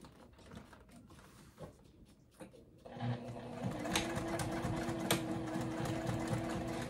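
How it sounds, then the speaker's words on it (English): A Juki sewing machine top stitches a circle bag at a steady, fast clatter that starts about three seconds in and continues to the end, loud and near. "I'm going to turn it to a 4 on my machine. And I'm just going to top stitch."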